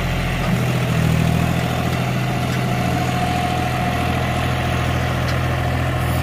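A John Deere 5050D tractor set to 1600 rpm in third low gear, pulling an 8×8 disc harrow, its diesel engine drones in a steady, loud, close rumble without pause.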